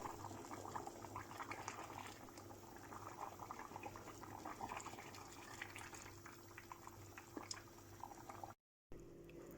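Turkish dried bean stew with meat simmering in a pot: a steady, faint bubbling and gentle boil that continues throughout, with a brief dropout near the end.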